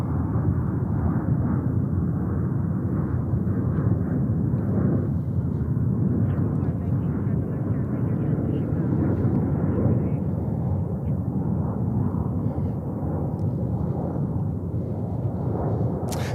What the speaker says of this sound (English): our first runway 31 left arrival is coming in, Delta